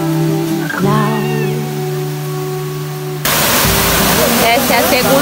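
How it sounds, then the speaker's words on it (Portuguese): A waterfall at the Morro Azul farm in Brazil, the second of four falls, gives a steady loud rush of falling water, growing stronger and closer in the second half, with voices talking over the first part. "Essa é a segunda cachoeira"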